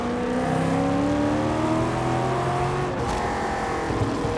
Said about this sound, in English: This engine is just dialed in so nicely. It is just an absolute animal.